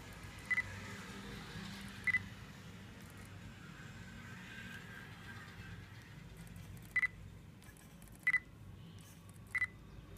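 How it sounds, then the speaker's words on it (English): Five short, quiet electronic beeps and whirs from a Nikon 35mm f/1.8G lens autofocus motor, scattered irregularly over a faint background hum. "Let me show you autofocusing"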